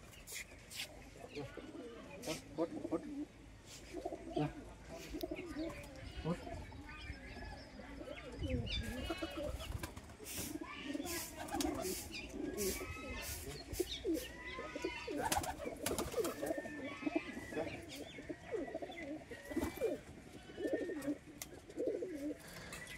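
Roller pigeons coo softly and repeatedly in the background, low rhythmic calls continuing throughout while people talk nearby.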